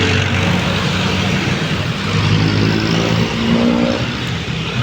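Cars passing on a busy road at a stone arch landmark in Pagsanjan, Laguna, a broad continuous traffic roar that swells and fades as vehicles go by, fairly loud with no clear talk.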